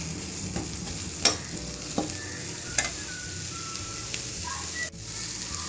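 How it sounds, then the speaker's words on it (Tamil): Onions sautéing in a pan with cloves for butter chicken masala, a steady soft sizzle with a few sharp clicks of a spoon scraping and stirring, close and fairly quiet, no talk. "வெங்காயம், வெங்காயம் கொஞ்சம் வதங்கினா போதும்."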